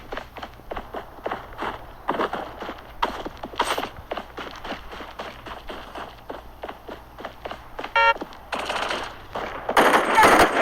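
Rapid bursts of automatic gunfire and single shots in a first-person shooter video game crackle through the whole stretch, loud and close, with a few footstep-like clacks between volleys.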